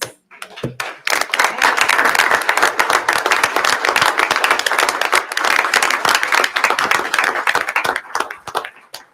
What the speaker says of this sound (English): Stand up with you so we can give them a round of applause.